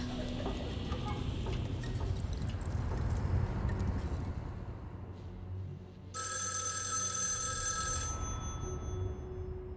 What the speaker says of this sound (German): Telefon. Na los, geh ran.